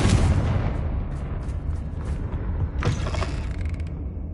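A Confringo fire spell cast in the Hogwarts Legacy video game: a loud, dense magical blast with a grinding, creaking mechanical texture, followed by a second sharp burst near the end.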